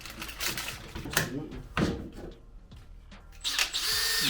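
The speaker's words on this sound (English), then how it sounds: "I have to find something to drill now." Short bursts of a power drill whirring and grinding into metal, mixed with clattering and a voice in the background, ending in a steady high whine.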